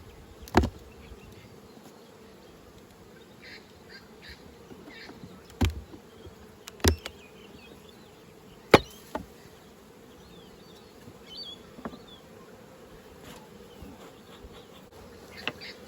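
Honeybees in an opened Flow hive produce a faint, steady buzz throughout, broken by a few sharp knocks and clicks.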